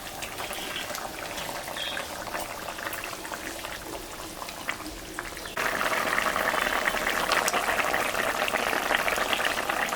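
Bengali tengra fish curry with whole spices simmering in a pot, a steady bubbling boil that grows louder and denser partway through, close and continuous with no talk.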